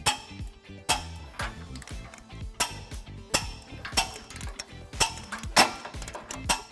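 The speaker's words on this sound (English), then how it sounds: "We're going to go ahead and tighten and torque all of our bolts according to the manufacturer specifications." A ratchet with a 19mm socket tightens trailer hitch bolts on a 2004 Ford Crown Victoria, making a fast run of clicking strokes, each one ending in a sharper snap, close and steady with no talk.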